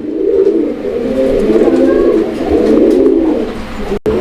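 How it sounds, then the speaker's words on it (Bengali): Domestic gola pigeons coo in close, repeated low throaty phrases, loud and continuous, at a pigeon seller's stock. "আসলে এটা কি অরিজিনালি এটা গোল্লা কবুতর একবারে সেম"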